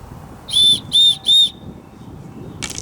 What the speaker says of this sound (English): So we've got a little whistle.